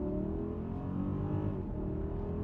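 Mercedes-Benz GLS 580 with a biturbo V8 at full throttle in first gear, a deep steady engine roar heard from inside the car, loud and without talk.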